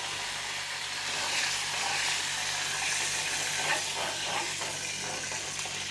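Mustard seeds, fenugreek and curry leaves tempering in hot oil give a steady, fairly quiet sizzle with a bright crackling hiss. It runs evenly throughout with no voices.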